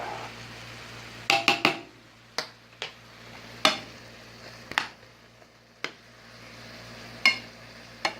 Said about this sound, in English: keep cooking the meat down, maybe another 10 to 12 minutes. And always stir it.